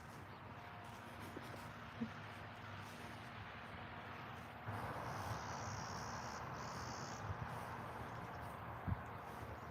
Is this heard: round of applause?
no